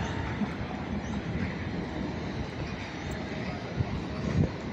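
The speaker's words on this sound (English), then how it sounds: "we have another district line train arriving on platform 6" Steady rumbling roar of a London Underground District line train pulling into a platform at Barking station, continuous broadband noise with a faint metallic hum.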